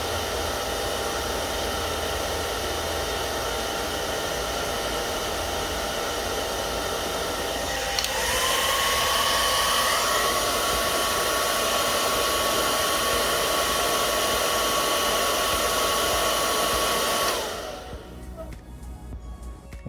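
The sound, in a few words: hair dryer running, airflow test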